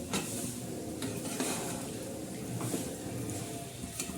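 Semolina and sugar are stirred in a pan for modak, a steady close scraping and rustling with faint sizzle and a few sharper utensil clicks, no talk.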